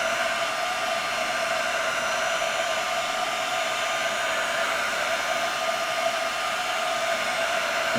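A heat gun melting wax blows steadily and loudly for the whole stretch, a constant whooshing roar with a high whine and no pauses.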